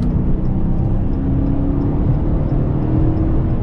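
Heavy modern car with strong torque driving on the road, its engine a steady low hum and whir under continuous road and tire noise, close and constant throughout with no talking.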